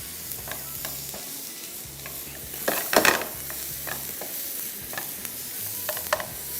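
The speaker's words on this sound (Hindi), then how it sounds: "प्याज को थोड़ा सा किया फ्राई।" Onions frying in a pan with garlic, lemon juice, oregano and salt, a steady soft sizzle broken by scraping stirs and a louder clatter midway, no voices.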